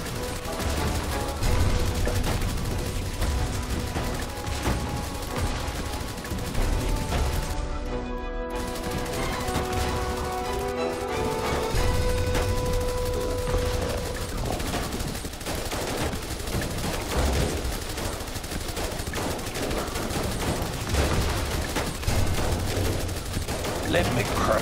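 Rifle gunfire in the zombie strategy game They Are Billions, dense continuous volleys of shots crackling throughout a horde battle, with brief game voice lines heard over the shooting.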